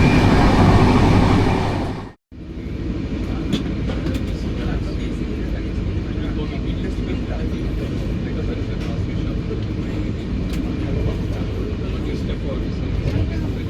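Rumble and rattle of the 12027 Chennai–Bengaluru Shatabdi Express at speed, heard from inside the coach as a loud steady roar. It briefly dips near the start, then carries on unbroken, with voices talking over it.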